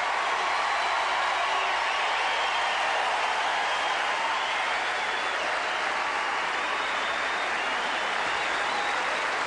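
Sustained, dense applause from a large crowd after a first-round tennis match at the 2001 US Open between Pete Sampras and Boutter, loud and unbroken throughout with no clear voices.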